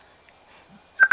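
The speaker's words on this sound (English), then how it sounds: "sorry about that phone ringing" A telephone sounds during an online call: two short electronic tone beeps in quick succession near the end, after near silence.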